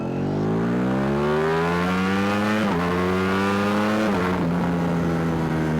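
A Ducati Streetfighter V4S motorcycle in road mode pulls hard in first gear with the quick shifter on. The engine note climbs steadily and loudly up close, then drops sharply with two quick upshifts around the third and fourth seconds before rising again.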